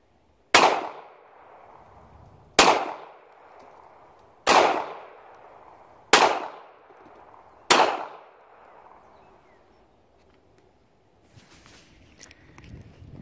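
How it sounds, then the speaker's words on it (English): Five sharp, loud pistol shots from a Beretta Pico handgun, fired one at a time about two seconds apart, each trailing off quickly, followed by quiet and faint shuffling at the end. "This is my wife's gun, and I hate it because it stings my hand when I shoot it."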